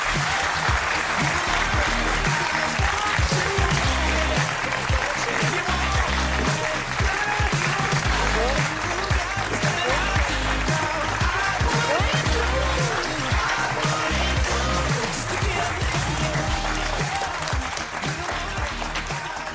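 A studio audience applauds four athletes being welcomed onto a television set, with steady, loud, dense clapping that carries on without a break for about twenty seconds.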